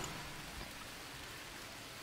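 Steady rain falls in the game Green Hell, a soft, even hiss of drops with no other sounds.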